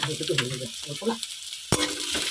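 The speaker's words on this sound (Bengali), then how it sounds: "লাল লাল করে পেঁয়াজগুলো ভেজে নেব" Chopped onions fry in a pan, giving a close, crackling sizzle broken by stirring scrapes and a sharp clatter near the end, with no one talking.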